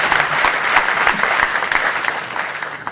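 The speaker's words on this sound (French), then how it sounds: "il faut qu'on applaudisse ça très fort." An audience at a plenary conference session on entrepreneurship in Morocco breaks into loud, dense applause, many hands clapping together in a close, sustained burst for a few seconds.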